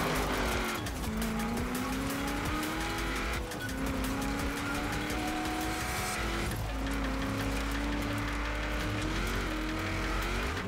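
Race cars in Forza Horizon 4 scream through repeated upshifts and revs, with tire squeal and skidding mixed in, loud and close with no talk.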